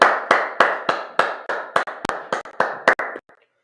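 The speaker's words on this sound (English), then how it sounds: "clap it up" A congregation claps along in steady rhythm at a Sabbath service, about a dozen sharp, fairly close claps in a brisk, even beat with no talking over them.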